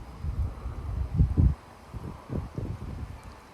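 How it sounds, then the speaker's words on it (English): Strong southwest wind gusts of around 30 miles per hour in Frisco, Texas rumble and buffet the microphone in uneven low surges, rising and falling several times with no talking. "30-mile-per-hour wind gusts. They are back."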